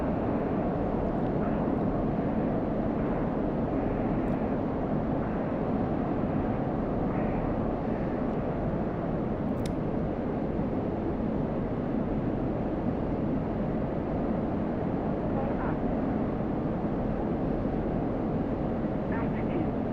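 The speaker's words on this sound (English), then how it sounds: "let's kick it in some afterburner" F-16 jet engine in afterburner in the DCS flight simulator, a dense, steady roar with a rushing hiss that holds constant and loud for the whole stretch without easing.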